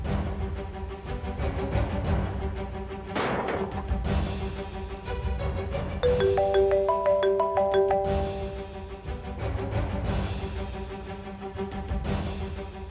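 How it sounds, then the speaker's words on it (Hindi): A phone ringtone rings on and on unanswered, a repeating melodic chime pattern that returns in cycles at moderate level, with no voices over it. "फोन क्यों नहीं उठा रही?"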